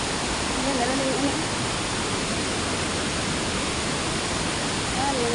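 Pondol Falls waterfall after a typhoon, a steady broadband rush of falling water close by, loud and unbroken throughout, with a faint voice briefly audible over it.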